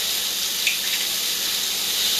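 Liquid stock pours steadily into a cooking pot over chopped tomatoes for a chicken biryani, a continuous bright watery splashing and gurgle that stays close and even throughout, with no talking.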